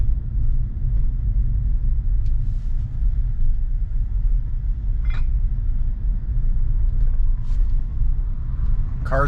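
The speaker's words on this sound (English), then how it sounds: "Got a little bit of traffic here though first." A Tesla on full self-driving moves through traffic, heard from inside as a steady low road rumble with occasional faint clicks and ticks over it.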